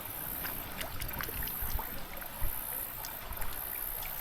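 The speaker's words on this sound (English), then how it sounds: "There's two holes right here that the water can come through" Water trickles and drips through small holes in a rock crevice at a gold prospecting spot, a soft continuous outdoor babble with scattered small splashes and no talking.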